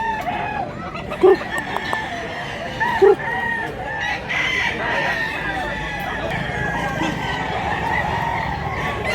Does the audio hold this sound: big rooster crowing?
yes